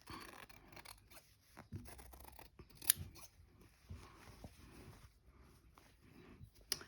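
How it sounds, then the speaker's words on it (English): Scissors snipping through fabric for a Christmas cushion, a series of quiet close crisp cuts and rustles, irregular in rhythm, with no talking. "I'm really cutting into it now. I just want to cut around,"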